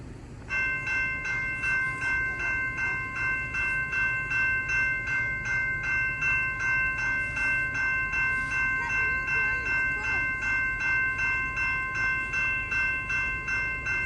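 A CP freight train rolls past a level crossing on 2nd Line near the MacTier Subdivision, its steady rumble heard under the constant rapid ringing of the crossing bell throughout.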